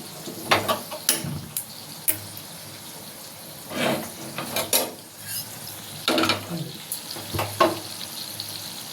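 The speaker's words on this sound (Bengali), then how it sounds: "ভাজতে দিয়েছি।" Food folded into a small chocolate-like parcel sizzles in a frying pan, quiet sputtering bursts that rise and fade irregularly with light utensil clatter, no voices.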